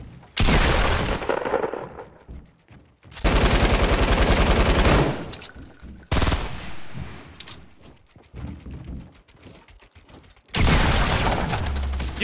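SMG gunfire in the video game Black Ops 4, loud sustained automatic bursts in several long stretches separated by quieter gaps, with no talking over them.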